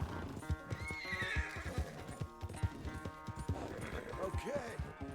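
A horse in Red Dead Redemption 2 whinnies loudly and snorts while its hooves clop in an uneven, lively rhythm close by, with rising neighs near the start and end over a busy game soundscape.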